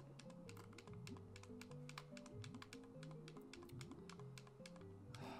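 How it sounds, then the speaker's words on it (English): Rapid, uneven plastic clicks of game controller buttons during Banjo-Kazooie play, close and steady throughout, layered over the game's bouncy music. "Are you annoyed by the clicking of my controller yet?"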